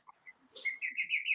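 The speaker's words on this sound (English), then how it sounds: "There's a bird in the house" A bird loose inside a house gives a few soft scattered peeps, then a bright, clear run of high chirps and whistled tweets, close and alone in a quiet room.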